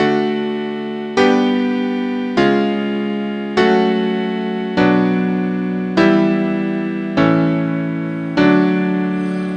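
Eight sustained piano-like chords sound one after another at an even pace, each struck cleanly and decaying slightly before the next, spelling a secondary dominant five of three built from a raised leading-tone triad, with no voices.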